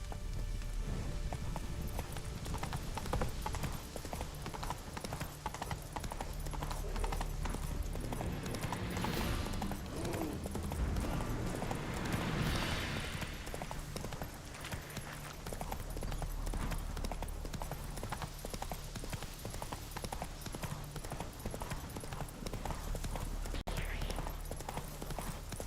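In The Witcher 3, the horse Roach gallops along with a constant quick patter of clip-clopping hooves, moderately close, layered with game ambience and occasional spoken lines from a character.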